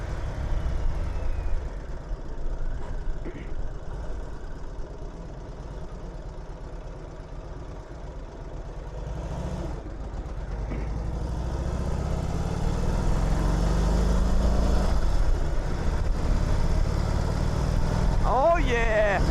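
An 80-year-old Indian motorcycle engine idles with a steady, low rumble that runs close and continuous through the whole stretch, growing slightly louder toward the end.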